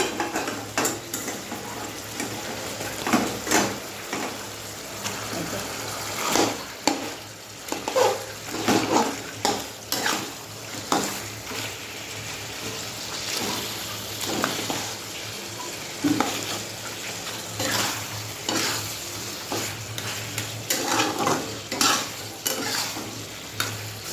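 A fried fish head is added to a simmering curry in a pan, with steady sizzling under repeated scraping and stirring from a utensil, close and continuous, with no talking.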